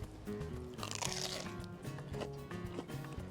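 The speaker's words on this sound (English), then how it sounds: "Giving a bite to a crunchy croqueta kind of thing" Someone bites into a crunchy croqueta with a fried egg inside, giving a couple of close, crisp crunching bursts over a steady musical background.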